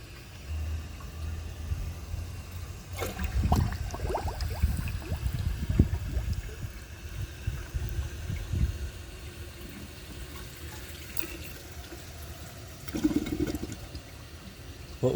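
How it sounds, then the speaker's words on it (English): Water rushes and trickles as a 1999 Universal-Rundle Atlas comfort-height toilet bowl refills and overflows, with a moderate, uneven flow that swells in a couple of brief surges. "I'm just going to let that fill back up, and I'm going to overflow it just for fun."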